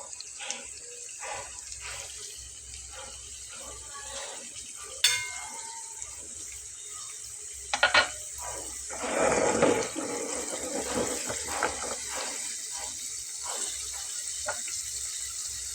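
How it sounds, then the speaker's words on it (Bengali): Snacks sizzle in hot oil in a home kitchen, a faint, continuous crackling hiss with a few brief louder bursts as pieces settle in the pan. "দেখুন অলরেডি ভাজাটা হচ্ছে"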